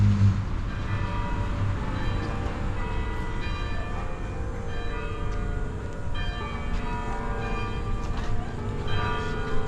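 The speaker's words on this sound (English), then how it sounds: "Sounds like I hear some church bells now." Church bells ring steadily over a noisy outdoor street background in St. Augustine, Florida, with a low rumble, sustained tones overlapping throughout.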